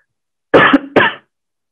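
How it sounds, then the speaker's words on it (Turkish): A person coughs twice in quick succession, close and loud, with short harsh bursts followed by silence. "Özür dilerim öksürük için."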